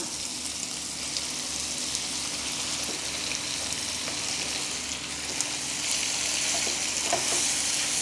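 Intestines fry in a pan with a loud, bright, continuous sizzle. Occasional soft clicks and scrapes of stirring sit close under the hiss.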